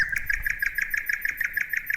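A nightingale sings in a steady run of rapid, bright chirps repeated at an even pace, clear and close with no talking, set within a bedtime telling of the tale of the emperor and the nightingale.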